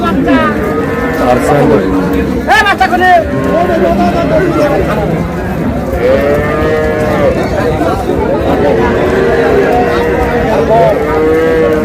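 Dairy cows and calves at the Raniganj cattle market in Dinajpur moo loudly and repeatedly in long drawn calls, close by, over steady crowd chatter and nearby voices talking.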